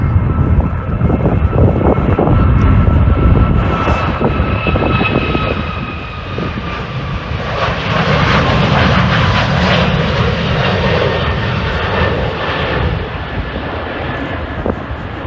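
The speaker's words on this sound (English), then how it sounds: "What a lovely plane that is." A jet airliner's engines roar loudly and steadily at Manchester Airport, a broad sustained rumble with a rising whine that swells and eases slightly as the aircraft moves, with no talking over it.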